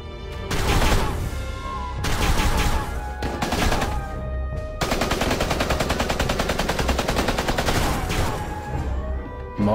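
Gunfire volley in the video game FFBE War of the Visions: loud, dense bursts of rapid shots in several waves separated by brief pauses, then a long sustained barrage, with no speech over it.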